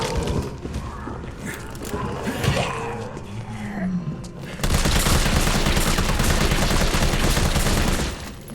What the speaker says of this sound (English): I could probably shoot them all.